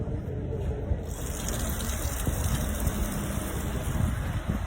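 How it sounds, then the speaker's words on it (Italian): Water pouring steadily from a village fountain in Isnello, Sicily, a continuous splashing rush heard up close and fairly loud. "Le tante fontane presenti con acqua buonissima"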